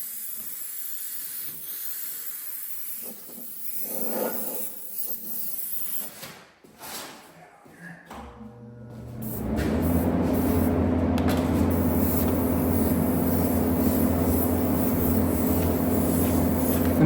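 Airbrush spraying paint to outline flames, a steady close hiss that starts about halfway through and runs on continuously after quieter handling sounds.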